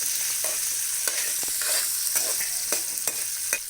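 Sliced onions with salt sauté loudly in a hot pan, a bright continuous sizzle broken by quick scraping stirs and spatula taps, up close with no voices.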